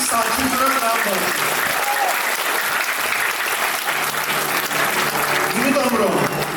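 An audience at a children's performance gives sustained, dense applause for the young performers, loud and continuous throughout, with a few voices calling out over the clapping.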